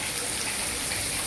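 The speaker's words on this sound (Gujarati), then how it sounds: "જો ભાઈ વરસાદ ચાલુ થયો હો" Steady, dense hiss of rain falling, a continuous wash of drops with no pauses and no voices.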